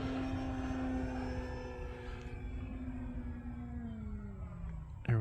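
An FMS Pitts RC model airplane flies overhead with its electric motor whining at a steady high pitch. The tone slowly drops and fades as the plane moves away, with no voices.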